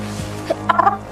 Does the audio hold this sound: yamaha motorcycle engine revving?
no